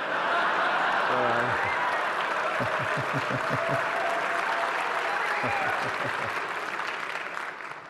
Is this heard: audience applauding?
yes